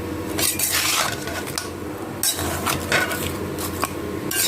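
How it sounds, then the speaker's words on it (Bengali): Ingredients being mixed by hand in a bowl with chili and mustard oil, a close, steady run of squishing, scraping and light clinking against the bowl, with a few sharper knocks along the way. "এখন সব কিছু দিয়ে মাখাবো, দিয়ে দিলাম, মাখিয়ে নিচ্ছি"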